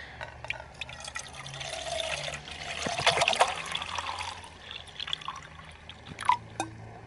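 Water poured into a small cooking pot, a close trickling and splashing stream that swells in the middle then tapers into intermittent drips and dribbles.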